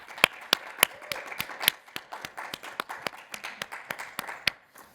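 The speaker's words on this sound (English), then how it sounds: "let's have a round of applause for Terry and Candy" A small conference audience at a WBENC event gives a sparse round of applause, with distinct individual claps in an uneven rhythm that trail off after about five seconds.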